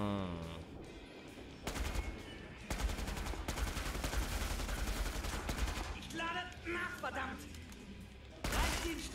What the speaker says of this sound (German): Das waren mehr Schuss, als ich eigentlich gebraucht hätte.